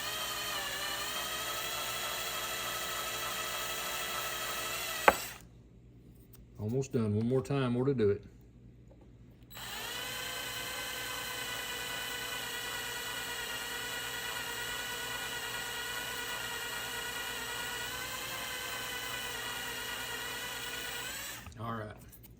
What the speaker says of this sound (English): All right, done with the drill.